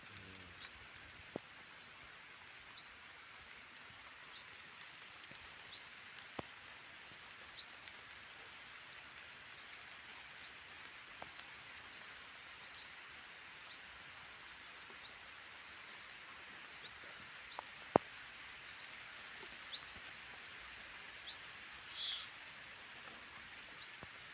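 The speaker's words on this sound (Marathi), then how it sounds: "पाऊस चालू आहे" Steady rain hisses softly and evenly, with scattered drops tapping nearby and faint distant chirps now and then.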